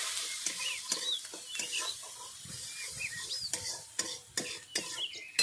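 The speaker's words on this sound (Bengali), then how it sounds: "সব মশলাগুলো আমি খুব ভালো করে ভেজে নেবো" Spices and vegetable masala fry in a pan for a Bengali dhokar dalna, with a soft, steady sizzle broken by repeated sharp scrapes and clinks of stirring close by.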